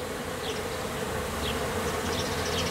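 A swarm of honeybees streams into a new hive a few feet from the old one, giving a dense, steady buzzing drone close by with no voices.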